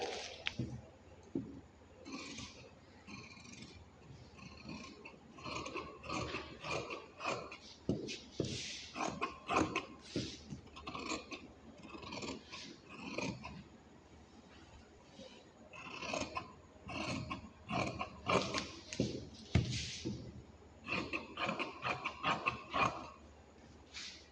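Scissors cutting blouse fabric in a series of crisp snipping and rasping strokes, close and fairly quiet, with short pauses between cuts.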